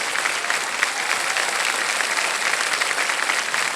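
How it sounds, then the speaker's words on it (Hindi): A studio audience on Kaun Banega Crorepati applauds steadily, a dense, even wash of clapping from many hands that holds at full strength throughout. "ताली बजाएं इनके लिए"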